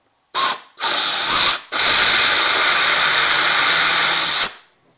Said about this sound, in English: It just blew out the other side.